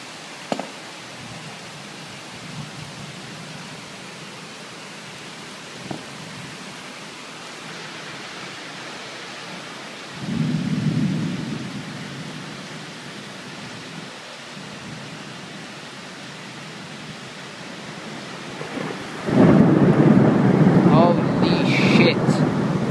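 Heavy rain falls during a night thunderstorm as a constant hiss, with a rumble of thunder midway and a louder burst of rain and wind near the end; a person talks over it at times.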